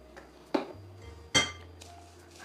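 A utensil stirs olive oil with salt, pepper and thyme or oregano in a bowl, producing a few sharp clinks against the dish over a quiet background hum.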